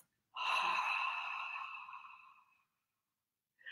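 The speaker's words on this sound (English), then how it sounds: "remembering that we're going to be breathing out through the mouth." Steady breath pushed out through the mouth as a breathing demonstration for stress relief, one long airy exhale fading over about two seconds, close and fairly loud, with a brief start of another breath at the end.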